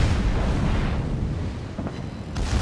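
A submarine's weapons fire in a World of Warships naval battle, heard as a loud, dense rumbling boom that fills the whole clip with no voices.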